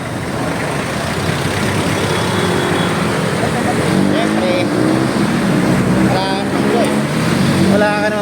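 Busy city road traffic during a bicycle ride from Tondo, with a steady roar of cars, trucks and buses close by and a couple of short horn-like blasts near the end, under a voice.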